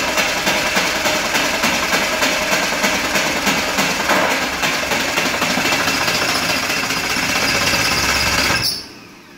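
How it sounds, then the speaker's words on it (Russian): A BMW 7 Series engine cranks in a loud, continuous start attempt, the starter and engine churning with a rapid pulsing chatter for about eight and a half seconds before cutting off abruptly into near silence. "Чуть не завел."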